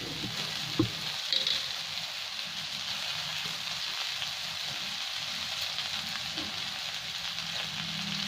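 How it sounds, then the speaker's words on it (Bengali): Street-style chowmein with spring onion greens fries in a pan at home, a continuous moderate sizzle with a few faint clinks and no talking. "এবার এগুলো আরও 1-2 মিনিট আমি ভেজে নেব।"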